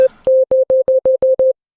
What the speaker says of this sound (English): There's no tone to it. It's just a sine wave to trigger a peak controller.